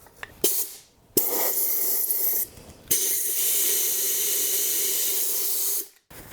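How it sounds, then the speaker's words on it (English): Compressed air blasts into a chainsaw oil tank to clear shavings from a stripped bar stud hole, a loud steady hiss lasting several seconds after a few shorter bursts, with no talking. "I'm going to reach inside the oil tank and blow out the stud hole so all the shavings blow away"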